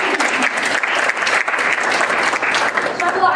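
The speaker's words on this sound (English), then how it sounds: "let's give her a round of applause" A small audience claps warmly for a speaker, a brief, close, continuous patter of applause lasting a few seconds.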